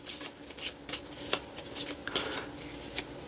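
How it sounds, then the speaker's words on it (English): A deck of Legendary Marvel deck-building game cards is shuffled in several quick riffling bursts, close and fairly quiet, with no talking. "Now we have to shuffle up our deck."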